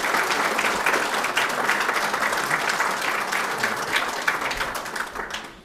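Audience at a Forsyth Tech apprenticeship program graduation ceremony gives a sustained round of applause, dense and steady clapping filling the hall for several seconds before tapering off at the end.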